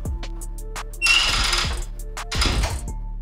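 A power drill unscrews screws from a bathroom ceiling during renovation. Two loud, close whirring bursts ring out, the first longer than the second, with quiet pauses around them.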